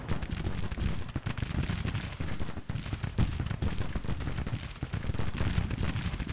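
Dense, continuous volleys of musket fire from a line of Civil War troops in the strategy game Grand Tactician: The Civil War, crackling and rumbling without a break, loud and close, with no talk over it.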